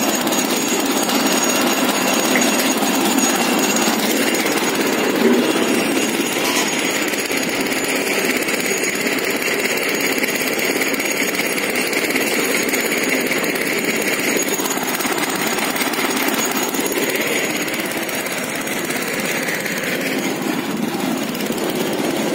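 A PTO-driven groundnut harvester runs off a tractor engine in a continuous loud mechanical drone with rattling and clatter, steady throughout with slight swells, no voices.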